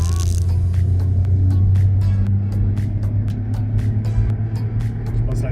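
Volkswagen Polo 4 car pulling hard at full throttle in third gear from a rolling start around 50 km/h on a departmental road, a steady loud low engine drone filling the cabin with faint repeated clicks above it.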